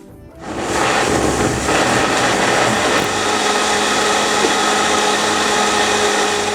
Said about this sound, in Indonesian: Dan kalau udah kita ini blender bareng aja sama bahan lainnya dan juga air.